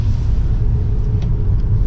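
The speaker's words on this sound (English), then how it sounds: "This car sounds good though." A Volkswagen MK5 Jetta's engine drones in a steady low rumble from inside the moving car, close and fairly loud, with no clear gear change or rev swing and no voices.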